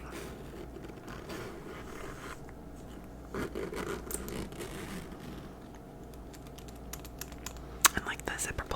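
Soft close-up handling sounds, light taps and rustles on a leather bag, quiet and intermittent, with a faint voice murmuring in the background.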